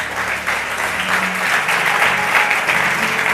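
A church congregation applauds and cheers for the Lord at a Sunday service, dense steady clapping filling the room with voices mixed in throughout.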